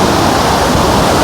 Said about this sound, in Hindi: अभी हम हैं सीसू वाटरफॉल से लगभग 100 मीटर की दूरी पे, फिर भी यहाँ तक पानी की बौछारें आ रही हैं